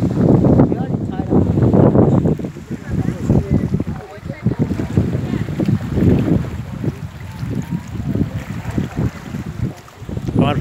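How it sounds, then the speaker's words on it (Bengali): Wind gusts by Lake Ontario near downtown Toronto, buffeting the microphone with loud, uneven roaring bursts that rise and fall throughout, alongside faint water and background voices. "কি সুন্দর বাতাস"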